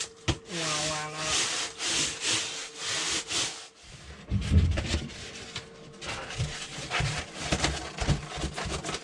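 Wood is trimmed for an icebox enclosure on a 1965 Alberg 30 sailboat. Close, repeated rasping saw and sanding strokes come in uneven bursts, with a short pause partway through.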